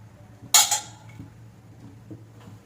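A lid comes down on a pot of oil-free chicken in a home kitchen with a single bright clink near the start, then a faint second knock, leaving only a quiet background.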